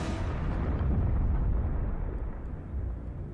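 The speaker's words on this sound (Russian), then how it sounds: "Он начинает разламываться и затем взрывается с мощностью небольшой атомной бомбы." An asteroid explodes high in the atmosphere with the force of a small atomic bomb, a loud, deep roaring blast that rumbles on and slowly fades over several seconds.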